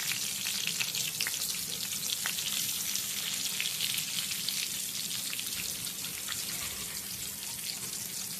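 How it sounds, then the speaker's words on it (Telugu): Masala-coated brinjals shallow-frying in oil in a pan on a slow flame, giving a continuous dense crackling sizzle with faint spatters throughout and no voices. "ఇలా స్టవ్ మీద పెట్టుకుని స్లో ఫ్లేమ్లో ఫ్రై చేసుకోవాలన్నమాట."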